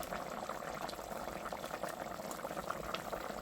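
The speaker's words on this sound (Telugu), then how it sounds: "కూర అయితే ఉడకొచ్చేసింది." A pot of Nellore-style bommidayi fish curry boiling, a quiet, steady bubbling and popping heard up close with no voices.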